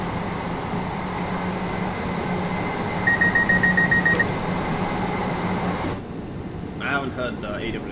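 An AWS warning alarm sounds in a train cab in Train Sim World 2, on a London Charing Cross to Rainham service. It is a pulsing, rapidly repeating tone lasting about a second over steady cab rumble and engine noise.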